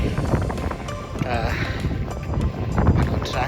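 Wind buffets the microphone with low rumbling gusts while a person speaks briefly outdoors on a foggy mountain hike.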